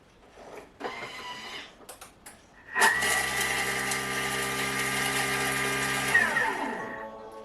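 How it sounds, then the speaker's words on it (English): A food processor chops parsley with a loud, steady motor whir that spins up sharply and runs evenly for about three seconds before winding down, with faint clicks of handling beforehand. "Now I'm going to turn the dial for 3 seconds and it's going to chop,"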